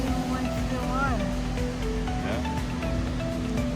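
Ocean surf washing steadily on a beach in Plymouth, a constant near rush beneath people talking.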